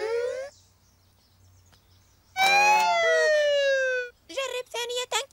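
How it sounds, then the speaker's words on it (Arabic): A loud cartoon fire engine siren wails with falling, sweeping tones, preceded by a voice and followed by choppy bursts of children's voices, all alone without background noise. "صوت سيارة الإطفاء مرتفع جدا جدا، فهو ينبه جميع السيارات لتفسح الطريق"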